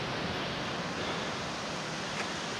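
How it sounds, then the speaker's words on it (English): Water rushes down rocks in Flume Gorge, New Hampshire, in a steady, loud, close roar that holds evenly throughout with no voices. "Check out the way the water comes down this."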